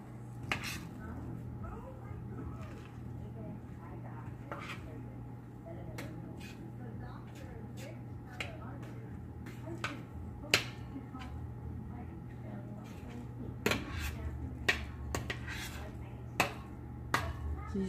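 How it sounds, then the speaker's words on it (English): Stirring homemade chicken dressing in a pan, with a spoon scraping and clinking against the metal in scattered sharp taps over a steady low hum, close and moderately quiet. "So we need to give it a stir."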